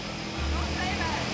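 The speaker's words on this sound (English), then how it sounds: "It's probably kind of loud because this plane" A skydiving plane idling on the ground, a loud steady engine and propeller drone filling the clip, with people talking over it nearby.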